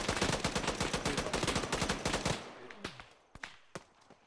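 Automatic gunfire in Escape from Tarkov: a dense, rapid burst of loud shots for about two seconds, then a handful of scattered single cracks trailing off, with no voices.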